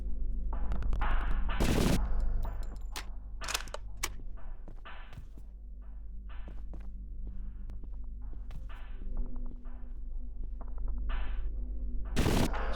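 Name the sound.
gunfire in the video game Zortch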